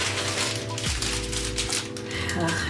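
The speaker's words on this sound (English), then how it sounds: "There's a zipper here. Let's see what's inside." A carrying case for a DJI Mini 2 drone being unzipped, a rasping zipper pull running close up over a constant background hum.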